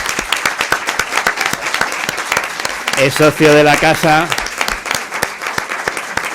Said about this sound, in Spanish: yo les voy a pedir un aplauso para su autor, que es don Jesús Martín